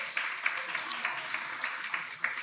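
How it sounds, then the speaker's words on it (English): A room full of people at a women's business event applauds with a steady wash of clapping at moderate distance, a few louder individual claps standing out. "Clap it up for yourselves."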